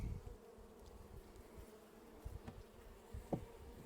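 Honey bees hum and buzz around an open hive split during queen introduction, a soft, steady drone with individual bees passing close now and then, faint and without talk.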